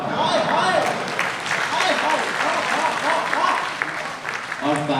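Steady, dense audience applause fills the room at full strength for several seconds, with speech rising over it near the end.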